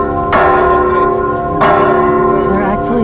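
Church bells in a bell tower in Cholula, Mexico, rung by hand: loud, rich clanging peals with long ringing overtones, two strong strikes about a second apart, each swelling and lingering into the next.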